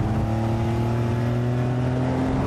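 A turbocharged 450 hp convertible sports car accelerates hard, its engine note droning loud and steady with a rising pitch, close throughout and with no voices.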